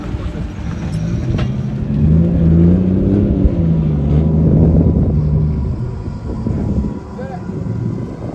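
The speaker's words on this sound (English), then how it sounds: "So I get out the power probe and it starts right here." A drift car's engine cranks and catches after being jumped with a power probe, settling into a low, rough rumbling idle close by while someone speaks over it.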